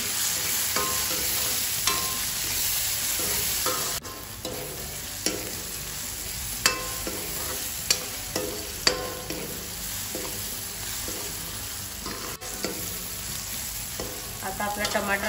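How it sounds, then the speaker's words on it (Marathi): Onions and tomatoes frying together in a pan for pav bhaji, with a continuous close sizzle and irregular spatula scrapes and knocks as they are stirred, no talking. "आता आपला टमाटर शिजलाय"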